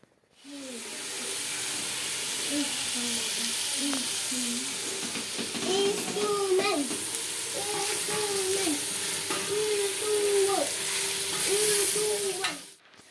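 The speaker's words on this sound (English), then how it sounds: "Now I have to stir the whole mixture at once, but I have to stir it with caution" Potato stew frying and sizzling in a sufuria while being stirred, a steady close hiss with scraping strokes and a voice talking over it throughout.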